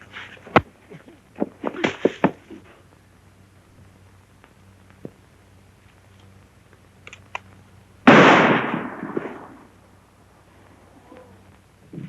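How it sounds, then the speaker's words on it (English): A single loud gunshot rings out outdoors in a Western shootout, a sharp blast followed by a brief decaying echo, preceded by a few scattered smaller clicks and knocks. "That shot came from over there."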